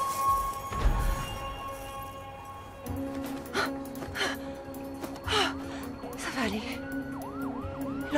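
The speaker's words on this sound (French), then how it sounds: "L'ambulance arrive." A wailing ambulance siren rises and falls in the distance, with sirens sweeping repeatedly near the end amid background noise.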